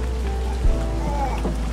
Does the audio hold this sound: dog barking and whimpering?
no